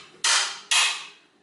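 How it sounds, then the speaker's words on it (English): A hammer strikes a tool twice to loosen the oil drain bolt on a Honda CR-V, two loud, harsh metallic hits about half a second apart, each ringing briefly before fading. "this hammering works well"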